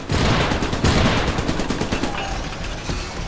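Dense, sustained automatic gunfire from the Xbox Live Arcade mech game Iron Brigade, loud and close, a continuous rattling barrage of rapid shots with no pauses across the whole stretch.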